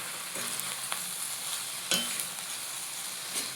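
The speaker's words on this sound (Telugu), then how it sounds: "కొంచెం చిల్లీ ఫ్లేక్స్ వేసి మంచిగా మిక్స్" Spatula stirring chilli garlic egg fried rice with chilli flakes in a hot pan, a steady sizzle with a few sharp scrapes and clinks against the metal, close and without talk.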